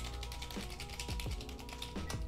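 Typing on a cheap wet waterproof computer keyboard, fingers damp, a busy stream of close, overlapping clicks and clacks with a few heavier key thumps, no talking.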